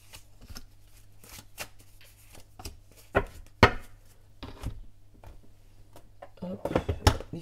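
Oracle cards shuffled by hand to draw one, giving a few crisp riffling and snapping bursts close to the microphone, with quiet background between them.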